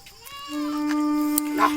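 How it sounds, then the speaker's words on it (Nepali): A goat bleats once, a long wavering cry close by, with a faint click and rustle near the end. "तर सबै यहाँ चाहिँ बाख्राहरू छ है"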